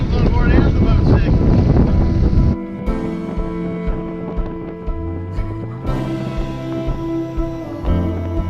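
A squall sweeps over a sailboat at sea, with loud, blustery wind roaring across the microphone for the first few seconds before easing into a lower, steadier rush of wind and boat noise.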